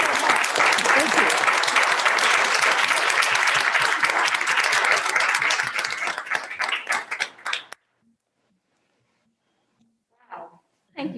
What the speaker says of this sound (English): Let's applaud Vanessa and the early college.